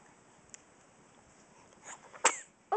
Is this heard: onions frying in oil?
no